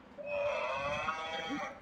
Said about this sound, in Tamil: மாடு. Cattle.